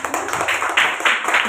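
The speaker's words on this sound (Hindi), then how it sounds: "वेरी गुड, ताली बजा दो।" Children clapping together in a classroom during a school lesson, a burst of uneven hand claps with a few louder swells, fairly close and with no talk over it.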